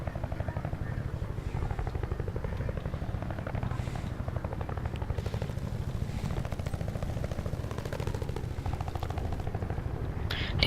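A video game helicopter takes off with a steady, fast rotor chop and engine drone that holds at an even level throughout. Faint game noises sit underneath.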